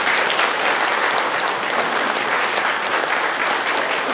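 A congregation claps at an Easter Mass. The loud, dense applause fills the whole stretch without a break and holds at an even level throughout.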